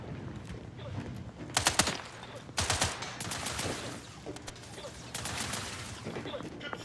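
Bursts of rapid automatic gunfire from combat in the video game The Outer Worlds 2, loud repeated volleys with sharp cracks over a steady background rumble, and no talk in between.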